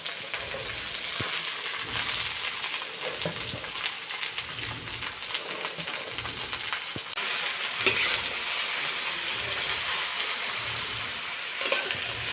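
Bohar bhaji, a Chhattisgarhi greens dish, stir-frying in a pan with fried onions: continuous hissing sizzle with occasional spoon clicks and scrapes, steady and close, no talking.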